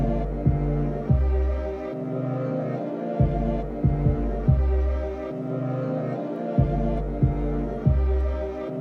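A distorted synthesized bass plays a repeating beat pattern, with deep sustained throbbing notes cut by short punchy hits, loud and alone.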